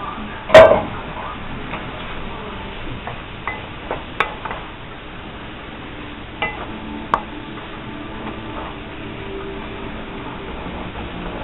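Shrimp and vegetables in a stir-fry pan with a splash of water, a low steady sizzle beneath scattered sharp clicks of stirring, one louder knock at the start.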